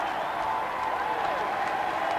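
A large crowd in Whitehall cheers and applauds steadily as Tony Blair arrives at Downing Street after the 1997 election, with a dense, continuous wash of clapping and shouting.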